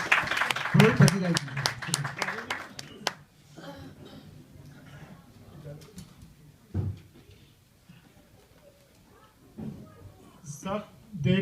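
An audience at a Long Island Urdu mushaira claps for a poet in a dense burst of applause for about three seconds, which fades into a man reciting, with a few scattered claps later.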